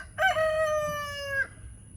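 A rooster crows once, loud and close. It is a single sustained cock-a-doodle-doo lasting just over a second, with a quiet farmyard hum underneath.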